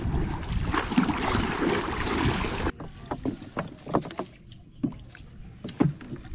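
A boat pushes through muddy water. A rough, windy rush of hull and water fills the first half, then gives way to quieter scattered splashes and knocks.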